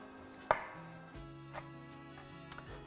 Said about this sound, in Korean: 좀 먹기 좋게 한입 크기로 좀 썰어줄게요